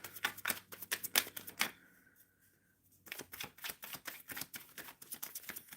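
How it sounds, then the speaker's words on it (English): Tarot cards being shuffled by hand, a quick run of crisp riffling flutters, a brief pause, then another steady burst of close, sharp card flicks. "Shuffling for Jazz."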